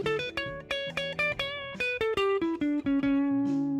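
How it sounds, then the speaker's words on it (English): A guitar plays a Dorian scale one plucked note at a time in a steady run. The last note rings out longer. The playing is clear and close. "I can also play Dorian scale"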